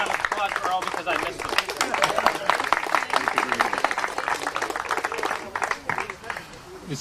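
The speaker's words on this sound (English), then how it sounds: "Let's have an extra round of applause for Earl" Audience applause at a cycling club's 40th anniversary party, given as an extra round for a former club president: many hands clapping in a steady, lively wash throughout, with voices mixed in underneath.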